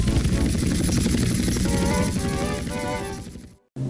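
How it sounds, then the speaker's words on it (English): An animated helicopter's rotor thumps loudly and steadily at close range, then the sound cuts out abruptly before resuming briefly, with no speech. "I'm gonna go crash my helicopter to celebrate."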